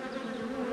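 Honeybees buzzing at an amateur keeper's hive, a steady, close, continuous droning hum with no pauses.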